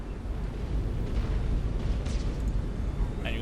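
A Nova Cannon fires in the space-battle game Battlefleet Gothic Armada, heard as a steady, deep rumbling roar that swells and sustains at moderate loudness without sharp separate blasts.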